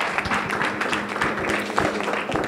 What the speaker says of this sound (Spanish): Un fuerte aplauso a nuestro director de Semana Hispana